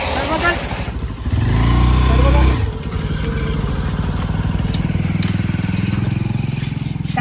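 A motorcycle engine rumbles close by, swelling loudly as it passes, with people talking over the steady droning motor.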